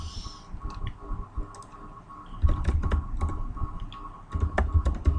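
Rapid clicking of keys on a computer keyboard as login details are typed, uneven bursts of close taps with short pauses between them and a louder flurry near the end.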